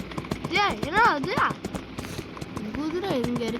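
Horse hooves clip-clopping in the Free Fire battle royale game, a quick run of repeated hoofbeats under excited voices talking over them.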